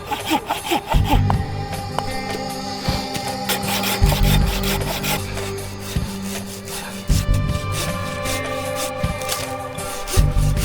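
Firewood is cut by hand at a snowy winter camp in a hot tent: rhythmic rasping saw strokes, close and steady, repeating through the whole stretch with short pauses between pulls.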